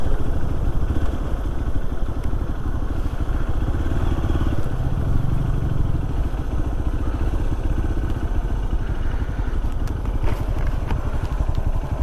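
A motorcycle engine runs steadily and loudly for the whole stretch at the start of the Nagarahole forest road, a continuous mid-pitched drone with some rattle and no pauses.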